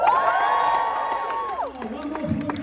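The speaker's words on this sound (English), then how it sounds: "Give a big cheer." A convention audience at a fan event cheering and whooping, with high sustained shouts from many voices that rise together and then tail off, loud and close.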